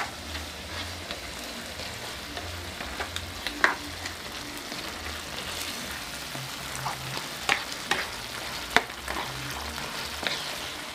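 Spicy meat being stirred in a sizzling frying pan, a steady close fry hiss with occasional utensil scrapes and taps against the pan, no voices.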